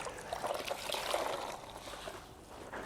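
Water rinses a Range Rover L460 being washed, a steady splashing, pouring hiss against the bodywork, moderately close and continuous for a few seconds, without speech.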